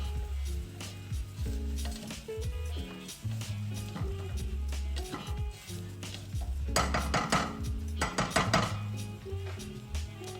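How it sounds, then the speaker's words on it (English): Metal utensil scraping and stirring rice inside a pot, steady and close, with occasional clinks and a light sizzle, growing busier toward the end. "Stir for about, 30 seconds."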